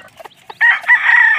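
Mother hen with chicks, heard up close: a few short clucks, then a loud, drawn-out call.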